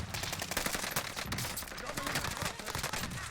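A flashbang grenade goes off in a first-person shooter amid dense, rapid gunfire-like bursts, a continuous crackling barrage at moderate level.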